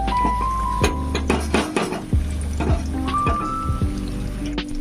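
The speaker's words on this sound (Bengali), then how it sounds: "এটাকে আমি কড়াইটা ধরে একটু ঝাঁকিয়ে নিচ্ছি" Paneer pakoras fry in a kadai shaken over a medium-low flame, giving repeated close metallic clanks and scrapes over a steady oily sizzle, with no voices.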